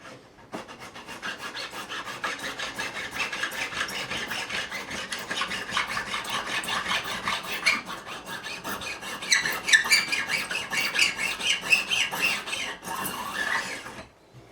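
Close, steady metal file rasping across fret end bevels on a 1976 CBS-era Fender Stratocaster neck during a refret, continuous strokes running the whole time with slight shifts in pitch and intensity, no talking.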